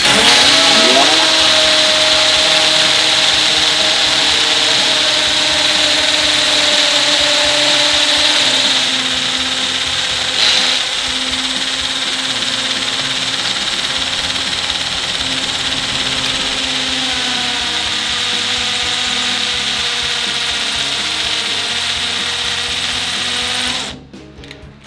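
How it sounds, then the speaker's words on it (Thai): A Ronix cordless drill boring about a centimetre into a precast concrete post, a loud, continuous close whirring drone that shifts pitch slightly as the bit bites, then cuts off abruptly at the end. "เวลาผมซื้ออุปกรณ์สว่านอะไรมาอยากจะเทสนะผมจะมาเทสกับเสาอันนี้ครับ"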